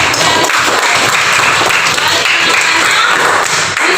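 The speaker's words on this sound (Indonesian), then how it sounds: "Tepuk tangan dulu untuk anak di sini." Steady, dense clapping from a group fills the whole stretch, close and fairly loud, with a faint voice or two beneath it.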